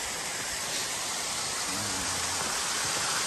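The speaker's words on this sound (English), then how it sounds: "we're at this cool waterfall." A waterfall on the Appalachian Trail gives a steady, loud broadband rush of falling water that fills the whole stretch without a break, close at hand.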